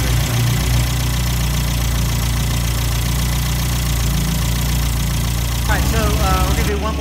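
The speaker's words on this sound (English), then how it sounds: "This is a cold start. I'm going to let the car run for 5 minutes" A 1954 MG TF engine idling steadily after a cold start, a constant low rumble filling the whole stretch, with a brief mechanical rattle near the end.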